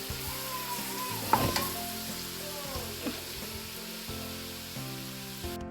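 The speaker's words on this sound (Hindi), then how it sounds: "1 स्पून मैंने गार्लिक डाल दिया इसमें" Garlic sizzles steadily in a spoonful of oil, frying for a shepherd's pie with lamb mince, a continuous close crackle with a few sharp clinks and scrapes of the spoon partway through.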